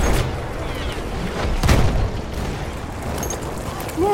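Explosives go off in the World War I shooter Battlefield 1, with a deep boom in the middle amid rumbling battle noise, gunfire and in-game voices.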